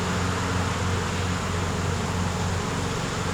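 Honeybees swarm around an opened hive being worked on, a dense steady buzzing drone close by and fairly even in loudness for the whole stretch, with no talking.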